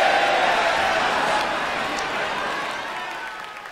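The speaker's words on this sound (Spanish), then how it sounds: "La multitud estalla en aplausos cuando termina la canción." Applause from a virtual concert crowd after an idol group's song in a management game, a dense wash of clapping and cheering that slowly fades over a few seconds.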